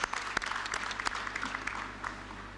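Audience applause at a pharmacy school oath-taking ceremony, a brief wash of clapping heard at a distance and fairly faint, with a low steady hum beneath.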